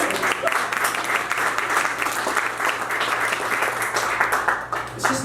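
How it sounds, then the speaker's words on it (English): An audience at a talk on reshaping streets claps in a loud, lively burst of applause, with sharp individual claps standing out from the mass. "You can applaud that, absolutely."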